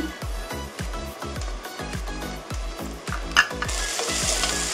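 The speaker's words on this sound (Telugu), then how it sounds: "పచ్చివాసన పోయేదాకా వేయించుకున్నాం ఉల్లిపాయలు." Chopped onions with turmeric sizzle in hot cold-pressed oil for chicken porutu, with a steady rhythm of spatula strokes scraping the pan close by and no one talking.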